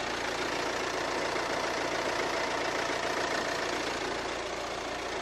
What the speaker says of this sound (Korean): 디젤 차량이기 때문에 디젤음은 들려주고 있지만 그래도 정말 규칙적인 엔진 사운드까지 들려주고 있는 차량이고요